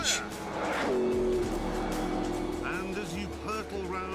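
A McLaren P1 sports car accelerates hard at very high speed, its engine note rising in pitch over a steady loud roar with some wind and road noise, while a voice talks over it throughout.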